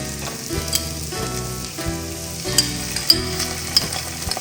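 Tomato paste sizzles and fries in a pan for a French coq au vin while being stirred, a steady soft crackle with small scraping clicks under background music.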